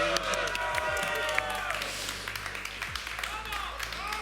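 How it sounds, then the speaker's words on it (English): Audience applause and some cheering for the esports team Dusty at a grand finals event, a steady crowd wash under a host's voice. "A round of applause for Dusty"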